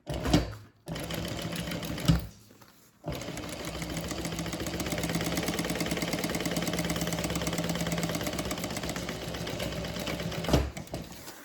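Sewing machine stitching across the bottom of a handbag, a rapid mechanical whirring chatter running steadily for several seconds after a couple of short starts and stops.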